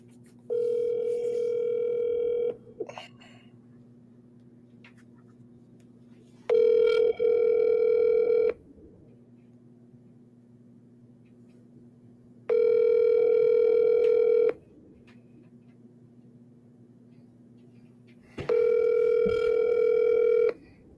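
Ringback tone of an outgoing phone call placed to call someone back, four long steady bursts with even pauses over a faint background hum, no talking.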